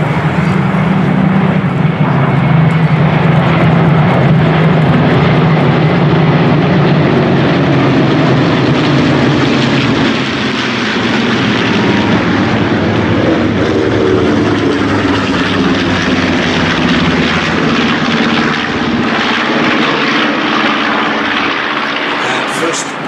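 A Balbo formation of vintage propeller aircraft passes over the Flying Legends airshow at Duxford, giving a loud, sustained droning roar of many piston engines that swells and shifts as the formation flies by.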